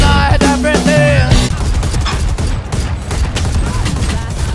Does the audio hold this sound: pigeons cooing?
no